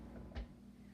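A cake pop maker's lid shuts with a single soft, dull thud, brief and close against a quiet kitchen hum.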